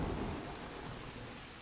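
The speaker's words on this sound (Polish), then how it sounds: "Piorun?" Thunder during a storm in the video game Bigfoot, a steady, loud rumbling roll mixed with heavy rain noise, with no voices over it.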